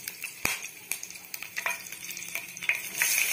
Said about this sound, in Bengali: এবার এটাকে আমি নাড়বো, ভালো করে ভাজবো এটাকে আমি।